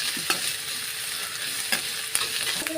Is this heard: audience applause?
no